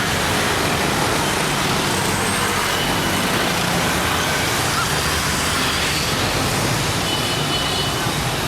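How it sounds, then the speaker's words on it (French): Dense motorbike and car traffic fills a Saigon street with a constant loud roar of engines and road noise, unbroken for the whole stretch. "en direct de Saigon et donc voici le trafic"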